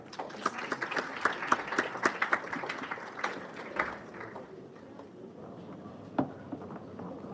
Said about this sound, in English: With a round of applause, let's welcome Mr. Ahmed Kadir Adam.